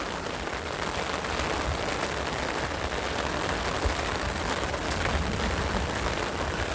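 Steady rain falls outdoors along a walking path, a dense, even hiss close around the listener with low rumbling patter underneath, continuous throughout with no voices.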